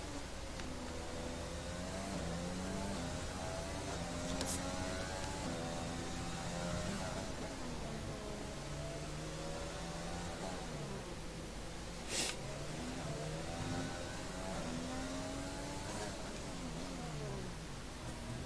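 An F1 car engine in the F1 2020 racing game, driven on a lap of the Singapore Grand Prix, screams continuously as it rises and falls through gear changes. The whine is steady and fairly loud, with two brief sharp bursts.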